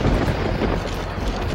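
Thunder from heat lightning, a low broad rumble rolling steadily for over a second and a half, fairly loud and without voices.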